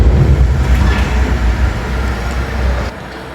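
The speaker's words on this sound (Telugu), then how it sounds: "ఇంకో కారు కూడా వచ్చింది వాళ్ళు రోప్ లాగుతున్నారు" A second car arrives at a cellar parking garage, its engine a loud, near, droning rumble that drops off sharply near the end.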